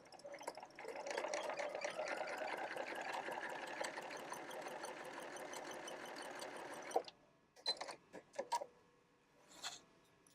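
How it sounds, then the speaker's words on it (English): A sewing machine runs steadily for about seven seconds, stitching quilt binding along a drawn line, then stops; a few short clicks and handling sounds follow. It is close and there is no talk. "we're going to stitch right on the line that we drew."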